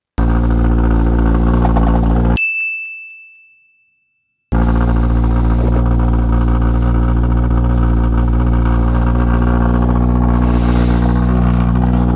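Loud motorcycle engine idling on tick over outside a bike repair shop, a deep steady rumble that cuts out briefly around a sharp ding and fade, then resumes at full strength.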